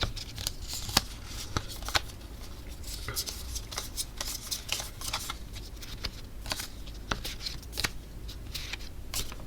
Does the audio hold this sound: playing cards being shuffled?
yes